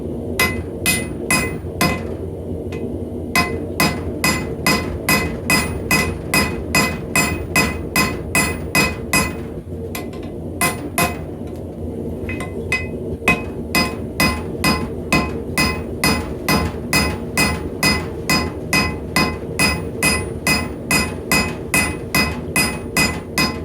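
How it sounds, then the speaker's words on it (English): Steady, rhythmic hammer blows ring out on a hot railroad spike being forged, close and loud, a regular clanging beat with a couple of brief pauses. "Time to start hammering it."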